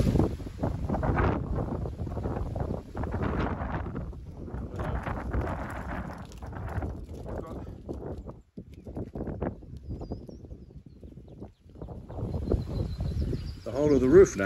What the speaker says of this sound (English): a windy day today.